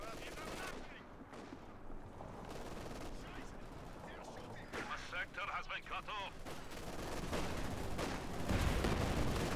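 Dense, continuous battle gunfire from a machine gun in the Company of Heroes 2 strategy game, with rapid bursts and explosions layered over one another at moderate loudness.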